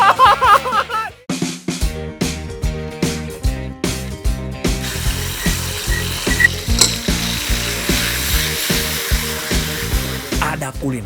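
Lamb torpedo fries in hot oil with a constant sizzle and a rhythmic scraping, clattering stir repeating roughly every half second, close by, while people talk nearby.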